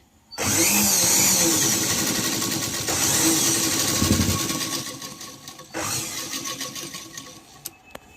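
A sewing machine stitches a petticoat seam, running steadily and loudly for about five seconds, stopping briefly, then whirring again for a shorter stretch before winding down. No one speaks.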